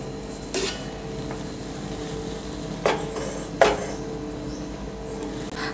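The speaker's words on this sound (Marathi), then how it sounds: "आता हा केक टिन असा 2 ते 4 वेळा असा छान टॅप करून घ्यायचा" A cake tin filled with ragi cake batter is tapped to release air bubbles, giving three separate light, hollow metallic knocks spaced a few seconds apart in a quiet kitchen.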